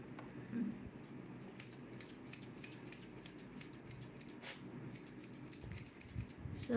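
Scissors trimming the ear hair of a drop-coat Shih Tzu, quick faint snips in a loose patter close by, with low background murmur throughout.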